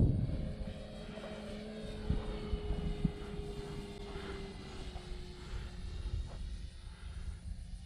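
A SIG Kadet Senior RC model airplane makes a slow pass, its small engine giving a steady droning whine whose pitch slides gradually, heard at a moderate distance outdoors.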